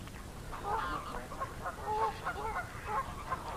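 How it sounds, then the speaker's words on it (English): Mallard ducks and mallard crosses quack and chatter in a loose, overlapping group on water, moderately close, over a soft outdoor background. "Lots of lovely ducks on this water"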